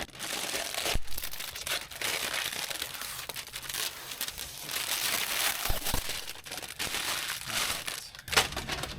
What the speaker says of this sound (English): I'm just going to rip this off and let's deal with the glue